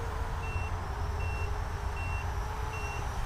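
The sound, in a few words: drone low-battery alarm beeping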